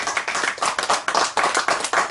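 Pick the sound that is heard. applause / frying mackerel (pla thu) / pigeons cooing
applause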